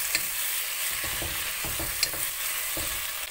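Two sliced tomatoes cooking in oil with mint, a steady bright sizzle with several soft spoon scrapes and stirs scattered through it, close and without talking.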